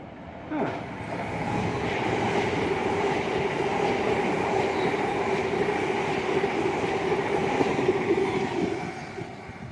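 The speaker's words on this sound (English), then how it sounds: "An empty Abbey Road Lizzie line train. Not stopping here." An empty Elizabeth line train runs through a London station without stopping, making a loud, sustained rumble with a faint wheel whine and rail clatter that holds steady for nearly ten seconds.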